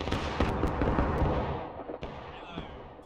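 Muskets fire a volley on command in the Civil War battle game War of Rights: a dense burst of overlapping shots that rumbles and fades, with scattered later reports.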